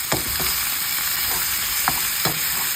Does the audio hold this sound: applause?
no